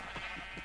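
A sheep bleats in Minecraft on a small in-game sheep farm, a single short, faint wavering bleat over a steady background hum.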